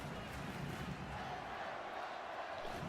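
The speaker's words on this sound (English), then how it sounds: "Let's go Red Bulls chant." A stadium crowd at a New York Red Bulls versus New York City FC Leagues Cup derby chants "Let's go Red Bulls," a steady, dense roar of many voices heard from a distance.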